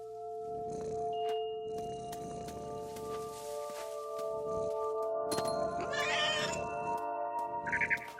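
Synthetic cat meows repeat several times over steady game music in What Remains of Edith Finch, loud and close, with a higher, squealing cry near the end.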